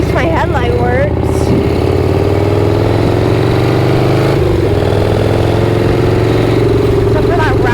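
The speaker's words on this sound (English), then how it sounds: "Bike is rattly enough without a bunch of extra little rattly bits happening on" A rattly motorcycle engine runs steadily on an evening ride, its loud, continuous drone holding a constant idle-to-cruise pitch throughout with no pauses.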